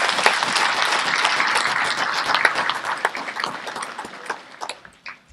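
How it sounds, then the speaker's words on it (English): Applause from the audience at an NHRA North Central Division awards ceremony, dense, steady clapping that thins into scattered claps and trails off near the end. "Let's give them all a round of applause right now."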